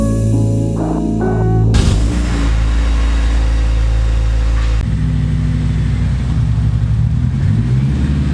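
A Honda car drives along with a steady, loud engine rumble and road noise, with a gear change or shift in tone partway through.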